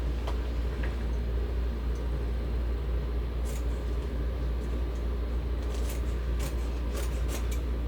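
Scissors snip through cutaway stabilizer on a machine embroidery piece held in a SewTech 6x10 magnetic hoop, a few faint scattered clicks over a steady low room hum with no talking.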